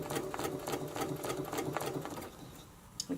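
A sewing machine stitches a feathered quilt in quick, steady bursts of needle strokes, running near and loud before slowing and pausing toward the end, with no talk.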